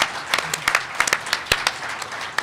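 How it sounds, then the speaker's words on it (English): Conference audience at a BSides Las Vegas security event applauding, a dense wash of many hands clapping with sharp individual claps poking through, steady and fairly close throughout. "just going ahead and giving them a big round of applause"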